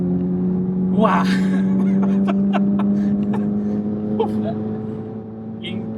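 Ferrari F430 Scuderia with Capristo exhaust, its engine droning steadily at high revs with a sustained loud tone that eases slightly toward the end, while a person exclaims over it.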